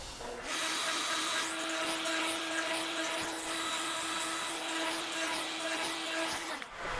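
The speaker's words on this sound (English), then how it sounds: "I've got an 1/8 inch round over bit set up," A router with a 1/8 inch round over bit eases the corners of wooden bench parts: a loud, steady, high-pitched whine that starts abruptly, holds for about six seconds, then cuts off.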